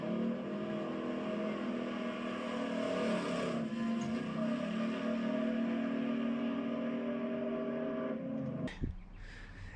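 A race car runs on a drag strip beside Capital City Raceway's oval track, giving a steady, loud engine drone that holds for about nine seconds before a sharp burst and a sudden drop near the end.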